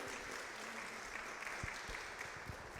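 An audience claps steadily to welcome Father José Gabriel at a church talk, a dense roomful of hands sustained at an even level for the whole stretch, with no voice over it.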